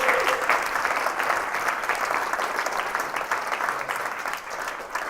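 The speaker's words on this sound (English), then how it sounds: "just a round of applause here, too, for our guests here" Steady applause from an audience thanking guests at a panel talk on culture and content, dense, continuous clapping at an even level throughout with no pauses.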